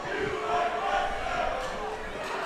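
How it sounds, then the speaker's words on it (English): A wrestling event crowd jeers at Veronica Vega, a continuous roar of voices and booing that stays loud and steady throughout. "Crowd letting Veronica Vega know how they feel about her."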